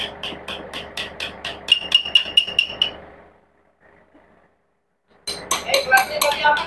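A hammer strikes metal during assembly of a D85ESS-2 bulldozer transmission: a quick run of sharp, ringing clinks that fades into near silence, then more loud metallic knocks.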